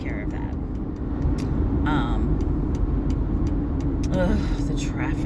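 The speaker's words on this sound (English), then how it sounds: "The traffic." Road traffic in Baltimore rumbles steadily close by, a constant low drone of passing cars and heavier vehicles, with someone talking intermittently over it.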